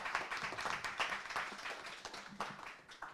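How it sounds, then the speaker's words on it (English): An audience applauds a singer at a songwriters' circle, with steady dense clapping that carries on for a few seconds and quietly rises and falls, and no voices over it. "Give it a round of applause."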